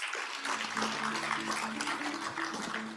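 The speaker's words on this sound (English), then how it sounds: "Ladies and gentlemen, another round of applause for our PEFA partners." A conference audience applauds partners at a public financial management event marking 25 years of PEFA, a broad steady wash of clapping lasting a few seconds, with a faint tonal hum underneath.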